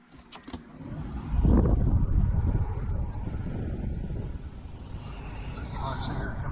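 The heater blower in an M-1 Cobra replica car build pushes air out of the dash vents, rising after a click into a steady, close, broadband whoosh that holds to the end.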